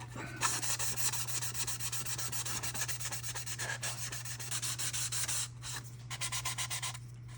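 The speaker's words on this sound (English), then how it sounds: "I'm just going to sand all this filling in that I did." Steady abrasive sanding of filler on a Tamiya Tiger I plastic model kit, a continuous close rasping rub with brief pauses near the end, over a constant low electrical hum.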